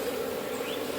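Bees buzz around a honey hive in a steady, close, continuous drone that holds evenly throughout with no voices.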